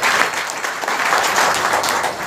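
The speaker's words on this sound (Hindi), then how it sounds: "कानपुर वाली ताली बजाइए।" An audience at a spiritual talk claps steadily and loudly for the whole stretch, a dense wash of many hands with no pauses and no voices on top.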